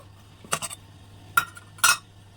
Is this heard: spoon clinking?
yes